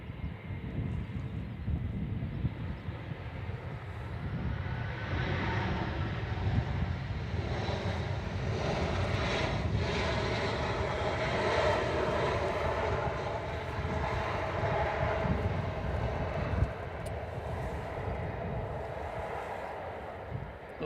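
Lufthansa Airbus A319 arriving from Frankfurt, landing at Manchester Airport, a broad rumbling jet roar that swells and holds, heard from a distance outdoors with no talking.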